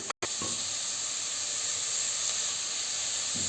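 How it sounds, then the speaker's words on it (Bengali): Sliced onions sizzle in hot oil and ghee for a chicken biryani, a loud, close, steady hiss that stays constant throughout. "আমার তেল আর ঘিটা গরম হয়ে গেছে, এর মধ্যে আমি পেঁয়াজগুলো দিয়ে দেবো।"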